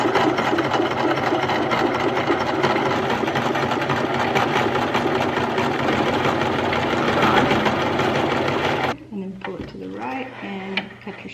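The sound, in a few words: sewing machine stitching a folded fabric hem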